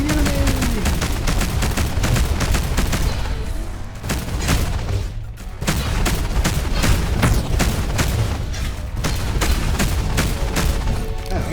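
Spaceship weapons fire in Between The Stars during a space battle, a relentless rapid stream of sharp blasts and booms filling the whole stretch with no letup.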